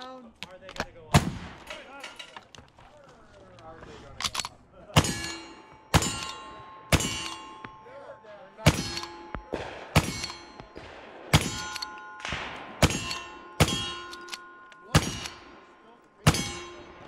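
Sharp gunshots from an Uberti 1866 Yellowboy lever-action rifle and 1851 Navy conversion revolvers crack out in a quick series at a shooting range, each followed by ringing metallic clangs of steel targets, close and loud with brief pauses between.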